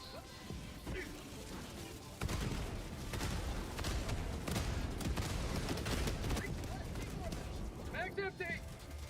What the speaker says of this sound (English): Requesting air. Airstrike.